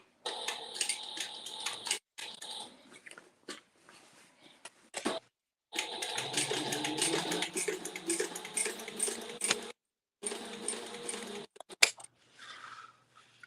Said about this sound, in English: I'm going to use my pinking shears for this part.